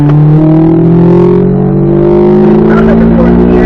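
A C8 Z06 Corvette powers along a race track, its engine droning loudly and steadily with rising, sustained pitch, heard close and continuous under buffeting cabin noise.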